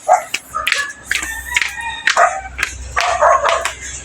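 A dog barks repeatedly at close range in a house setting, a run of sharp, loud barks and yips spaced through the clip with no talking over them.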